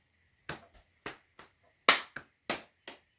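A small group clapping hands during a children's classroom game, six sharp, separate claps at uneven intervals in a quiet room, each dying away quickly, with a few faint softer taps between them.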